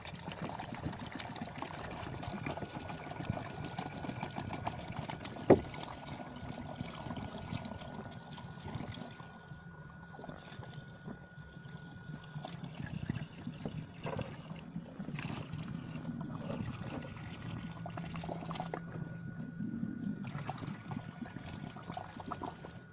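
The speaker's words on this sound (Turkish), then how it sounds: "Sıcak su ilave edeceğim." Hot water being poured into a car engine's radiator during an antifreeze change and flush, a soft continuous trickle and splash with a faint steady hum under it.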